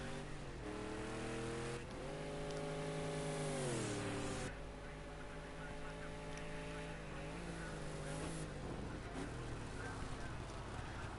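Muscle cars race in a video game, several engines droning and revving together in steady layered tones that climb and fall through gear changes, loud and continuous with a brief surge near the start.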